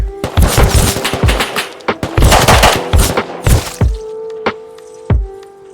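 Loud, close gunfire in the video game Rust, rapid automatic bursts with sharp impact thuds, easing into a few spaced single shots over a steady humming tone.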